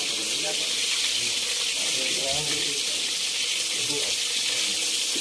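A loud, steady sizzle of grouper (lapu-lapu) frying in hot oil fills the whole stretch, a dense crackling hiss with faint voices murmuring underneath.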